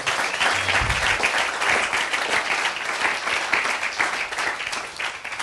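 A church congregation applauds in sustained, dense clapping that fills the room at a steady level for several seconds, loud and close, with no clear speech over it.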